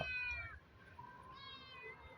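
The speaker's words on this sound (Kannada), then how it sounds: "ಇದು ಬೆಕ್ಕು ಮರಿ." A kitten meows twice in a home backyard where chickens are kept. The two clear, fairly close cries are separated by a short pause, with no talking.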